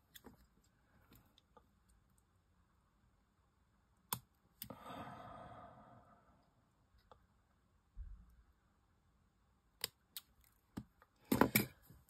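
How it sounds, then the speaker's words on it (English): Scissors snipping into a small craft piece, a few crisp isolated snips and clicks with a short rustling cut in the middle, close and quiet against near silence. "I need to cut into it a bit more."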